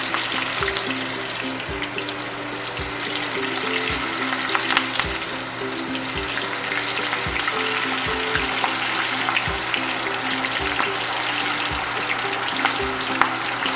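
A blooming onion deep-frying in hot oil, a dense steady bubbling sizzle that continues throughout, with faint periodic low thumps underneath.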